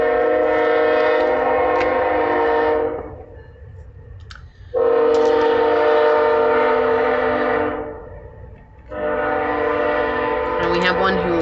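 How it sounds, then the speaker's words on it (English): A train horn sounds three long, loud blasts close by, each held for a few seconds with short quiet gaps between them, and no voices over it. "we have one who really likes to honk the horn today"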